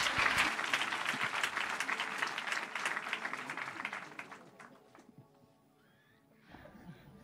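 A crowd at a religious wedding bursts into dense, loud applause that fades out after about four seconds, leaving quiet room noise and a brief voice near the end.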